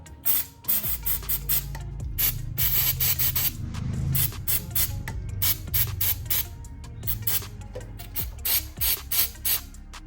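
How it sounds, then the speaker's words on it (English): Contact cleaner sprays onto the countershaft seal area of a Suzuki DRZ400E dirt bike in a rapid series of close, sharp hissing bursts with brief gaps, loud and alone. "just give it a quick spray with some contact cleaner just to clean out that area"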